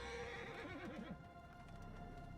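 A horse in the Western roleplay game RedM gives a loud, close whinny with a wavering, quavering pitch, followed by a softer snort and faint hoof movement.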